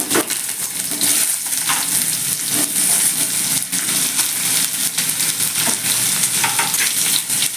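Chopped garlic and vegetables frying in a pan for a Bengali kalmi greens curry, with a steady loud sizzle and scraping stir strokes throughout, no voices.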